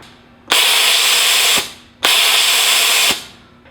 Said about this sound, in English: this is our standard size mister, and we'll set it off here